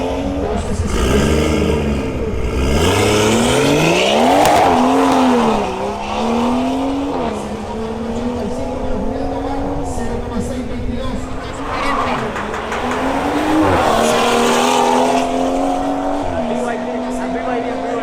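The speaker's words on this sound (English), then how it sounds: "Thanks to his reaction time, the victory goes to Julian Tovar in his BMW M240i" Drag racing cars, including a BMW M240i, accelerating hard down the strip with rising and shifting engine notes, loud and continuous, with an announcer talking over the engines.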